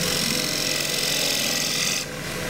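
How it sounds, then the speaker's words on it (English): A small green-wood bowl spinning on a lathe while a tool shear-scrapes its surface, giving a continuous, loud, rasping hiss that thins abruptly near the end. "And just shear scrape that."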